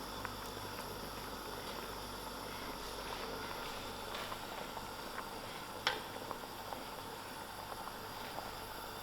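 Pot of dhal with garlic, chilies and tomatoes bubbling steadily, a soft continuous boiling hiss with faint pops, fairly quiet and unbroken with no talking.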